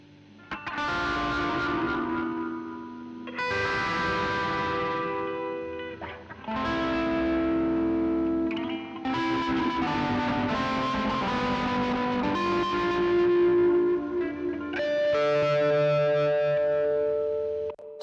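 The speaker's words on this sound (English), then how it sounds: "I'm gonna chuck this into the reverb." A music track is sent through a reverb effect: sustained, distorted synth chords ring out in several long phrases, each tail washing and smearing into a spacious, echoing decay.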